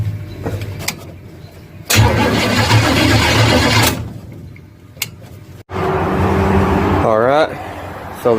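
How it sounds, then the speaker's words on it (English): A 1967 Chevelle engine cranks and catches on its first start after rewiring with original fuses, loud broadband bursts of cranking and running close by, stopping and restarting, with a voice speaking briefly near the end. "So this is an attempt at a first start with the car's wiring for the first time since 1977"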